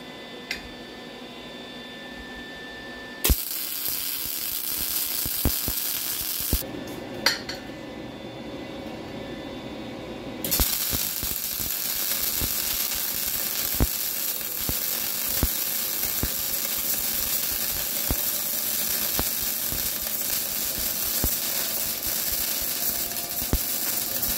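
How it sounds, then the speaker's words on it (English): A 180 amp MIG welder runs a bead on square steel stock, giving a steady crackling, sputtering buzz with scattered sharp pops that continues for over twenty seconds after a brief start. "we'll try to run a bead of weld down that"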